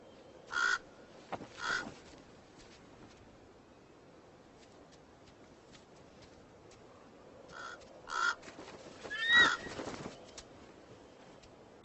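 A raven caws in a few harsh, separate calls, two early and a cluster later, with long quiet gaps between them in an otherwise still outdoor setting.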